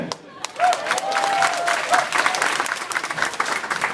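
An audience claps and cheers at a live band concert, a dense burst of applause lasting several seconds with a voice heard faintly over it.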